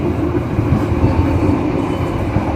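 Indonesian passenger train rolling into Madiun station after a signal hold, a steady close rumble of wheels and carriage noise, continuous and fairly loud with no talk.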